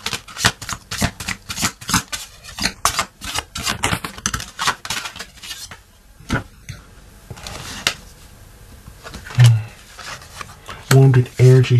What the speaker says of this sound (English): We're going to get a couple of cards here from this deck.